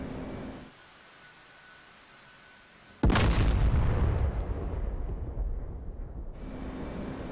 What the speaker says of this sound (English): Got some secondary explosions as well within the compound